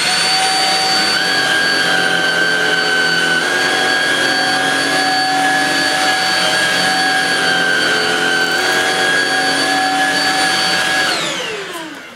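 A Shark Rocket Duo Clean stick vacuum cleaner runs loud and steady with a high whine for about eleven seconds, then winds down as it is switched off.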